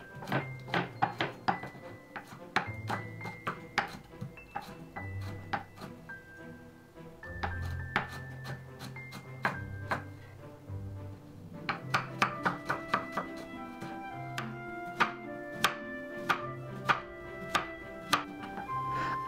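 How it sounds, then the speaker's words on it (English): A knife chops carrots into strips on a cutting board for a Korean chicken noodle soup, making quick close knocks in rhythmic bursts with short pauses, over soft kitchen clatter and light background music. "Slice the carrot and cut them into stripes"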